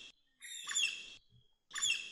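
An Andaman woodpecker, a large black woodpecker with a red crest, calls in mangrove or evergreen forest, giving two bursts of harsh, ringing notes separated by a pause, clear and fairly close against a quiet background.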